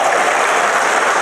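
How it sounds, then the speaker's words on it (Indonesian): A church congregation bursts into applause during a sermon, a loud, dense and steady roar of many hands clapping close by, with no talking over it. "Berarti tepuk tangan dulu"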